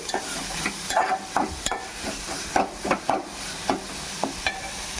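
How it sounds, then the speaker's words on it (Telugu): Ginger garlic paste frying in a pan for a mushroom masala curry, with soft sizzling under repeated scraping and stirring strokes of a spoon against the pan, close and moderately loud, no talking. "అల్లం వెల్లుల్లి పేస్ట్ కూడా వేసాం కదా, ఇది కొంచెం పచ్చివాసన పోయేదాకా ఫ్రై చేసుకుందామండి"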